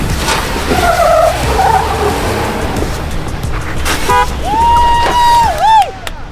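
A Ford Bronco working over a trail obstacle at the Trail Hero off-road event, its engine straining with scraping, skidding tire noise nearby, and a few high whistling tones near the end.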